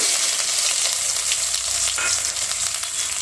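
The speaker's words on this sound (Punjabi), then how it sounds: "ਤੇਲ ਗਰਮ ਹੋ ਗਿਆ ਸੀ ਇੱਕ ਚਮਚਾ ਆਪਾਂ ਜੀਰੇ ਨੂੰ ਪਾ ਦਵਾਂਗੇ ਜੀਰੇ ਨੂੰ ਤੜਕ ਲਵਾਂਗੇ" Cumin seeds crackle and sizzle in hot oil, a loud, close, continuous spitting hiss with faint stirring, alone and without talk.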